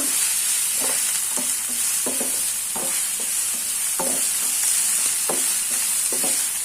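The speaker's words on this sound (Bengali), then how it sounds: "পেঁয়াজটি হালকা বাদামি আটা হওয়ার আগ পর্যন্ত আমি হালকা ভেজে নিব" Sliced onion frying lightly in a pan until golden, with a loud, steady sizzle and a regular series of spatula scrapes about every half second.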